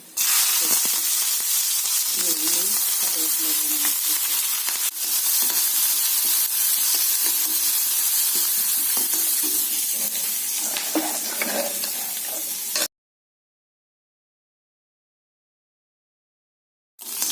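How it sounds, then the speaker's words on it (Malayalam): Mustard seeds and fenugreek sizzle in hot oil for tempering, a loud, continuous close frying hiss with light pops and stirring, cutting off abruptly into silence near the end. "അതിനോടൊപ്പം കുറച്ച് ഉലുവ ഇടുന്നു. കടുക് കൂട്ടി"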